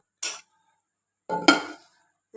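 A lid comes off a pot of kalathappam with a brief metallic clink and scrape, followed by a louder clatter as it is set down, close and alone amid near silence.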